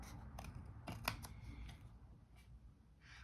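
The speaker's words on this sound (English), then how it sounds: "I'm using long blade scissors for this" Quiet, close snips and crisp slicing of long-blade scissors through paper, a few light cuts with soft rustling between them.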